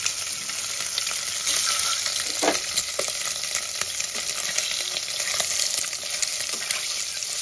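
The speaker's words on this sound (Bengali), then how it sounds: "এবার কুকারের মধ্যে দিয়েই আমি ভেজে নেব। হালকা লাল করে আমি ভেজে নেব, বেশি ভাজবো না।" Eggs or potatoes fry in hot oil inside a pressure cooker for egg biryani, giving a steady, dense, close sizzle throughout with a few faint clinks of a spoon.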